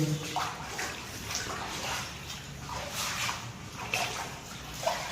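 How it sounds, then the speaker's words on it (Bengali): Floodwater pumped out of a flooded room after two days of rain, flowing steadily through a small pipe with a continuous close hiss and splash, broken by faint drips and clinks. "জল এই ছোট্ট পাইপ দিয়ে যাচ্ছে"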